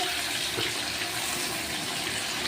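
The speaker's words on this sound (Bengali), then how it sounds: "দেখুন বন্ধুরা এখন জলটা দিয়ে দেওয়া হচ্ছে" Water poured into chicken kosa cooking in a pan, a continuous close gushing pour that stays steady and loud throughout, with no talking.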